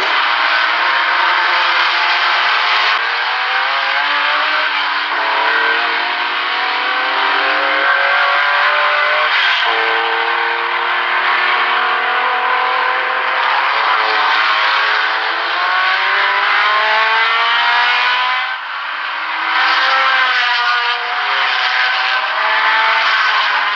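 Race cars at the 1973 Le Mans 24 Hours roar continuously, with engine notes rising and falling through gear changes as cars accelerate and pass, loud and sustained.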